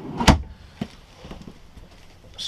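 A drawer in a 2015 Airstream Classic 30J travel trailer opens with one sharp knock, followed by softer faint rattles and taps, close by.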